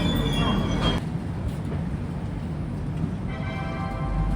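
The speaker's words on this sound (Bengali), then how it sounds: "আমাদের ট্রেনটা পণ্ডিত দীনদয়াল উপাধ্যায় স্টেশন থেকে ছেড়ে দিয়েছে" Ajmer Superfast Express pulling out of Pandit Deen Dayal Upadhyay station, heard from on board as a steady, loud rolling rumble with a faint metallic wheel squeal near the start and end.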